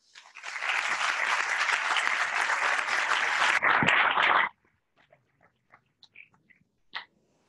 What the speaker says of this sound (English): So a round of applause for her.